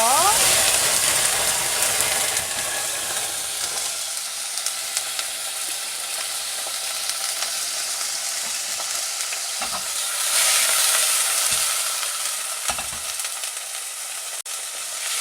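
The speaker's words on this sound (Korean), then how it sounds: "육즙 막 나오고 소리 시끄러울 때" Steak frying in a pan gives a loud, bright sizzle, strongest at the start and swelling again later, with occasional clinks and scrapes of utensils against the pan.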